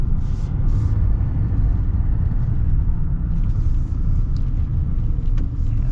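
A 2024 heavy-duty diesel pickup with a V8 Duramax engine drives along, a loud, steady low rumble of engine and road noise heard from inside the cab.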